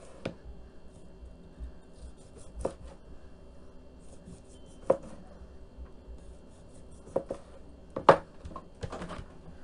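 A knife cuts through hot-smoked pork tenderloin on a board, a handful of sparse, sharp taps and scrapes spread over a quiet background, with no talking.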